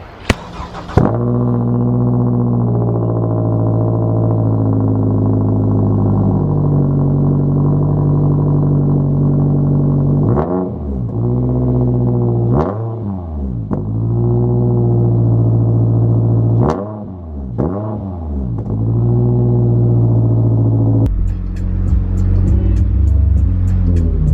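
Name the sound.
Scion tC 2.5 engine cold start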